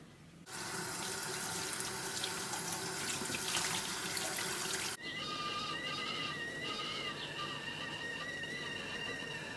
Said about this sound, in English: we're going to pour boiling water over them